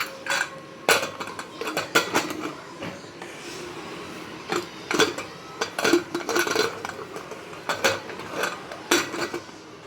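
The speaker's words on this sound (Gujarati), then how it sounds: "હવે આપણે આનું કુકરનું ઢાંકણ બંધ કરી દઈશું" A pressure cooker lid being closed over dal set to boil, with close metallic clanks, scrapes and ratcheting clicks of the lid locking into place, in irregular bursts with no talking.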